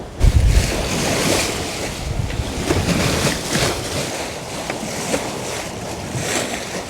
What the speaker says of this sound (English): Beautiful sailing, and we're just jumping along in these big swells from yesterday's gale